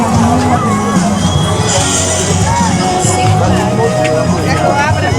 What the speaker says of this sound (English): The chaotic crowd.